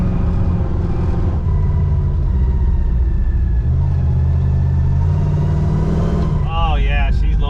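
Ford F-250 with Cherry Bomb mufflers idles with a loud, steady low rumble that sputters unevenly, a deep continuous exhaust drone heard close up while people talk over it.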